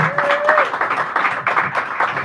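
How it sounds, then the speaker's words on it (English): A small audience claps for poet Wendy Wolters at Sacred Grounds Cafe in San Francisco, with brief, uneven clapping close by and a short tonal squeal at the start. "Give her a round of applause."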